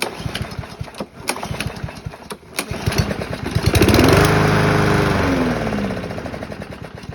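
A lawn mower engine fed diesel with a shot of carb cleaner cranks with sharp pull-start bursts, then catches and roars loudly for a few seconds before winding down, close and alone.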